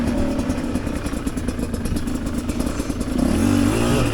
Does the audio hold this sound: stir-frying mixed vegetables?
no